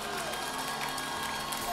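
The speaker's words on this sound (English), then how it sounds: "Clap some more for Jesus" Congregation clapping and cheering at a church Sunday service, a dense steady wash of applause from a large crowd with voices mixed in, sustained and even throughout.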